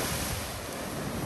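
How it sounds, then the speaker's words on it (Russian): Sea waves at Lazarevskoye, Sochi, wash against the shore and pull the soil away, in a brief burst of loud, close, rushing surf noise with no voices. "Волна потихоньку-потихоньку забирает с собой весь грунт и уносит его в море."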